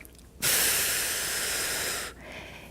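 A single long exhale during a reformer Pilates exercise on a combo reformer, a steady breathy hiss that lasts under two seconds and stands clearly on its own.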